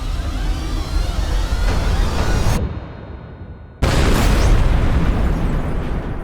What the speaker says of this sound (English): an explosion killed 4 men and destroyed the conference room